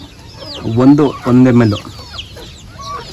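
Large adult chickens on a farm give two loud, close, drawn-out clucking calls in quick succession, followed by softer scattered bird chirps and clucks in the background, with a person speaking briefly.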